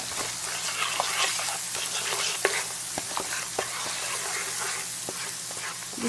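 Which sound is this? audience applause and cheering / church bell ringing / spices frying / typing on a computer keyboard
spices frying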